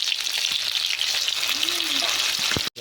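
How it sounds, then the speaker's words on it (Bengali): Chopped onion frying in hot oil with a bay leaf, a dense continuous sizzle close up, with a brief rising tone and a knock near the end before a sudden cutoff. "কাটা পেঁয়াজ লাল করে ভেজে নিতে হবে ফোড়নে পেঁয়াজটা"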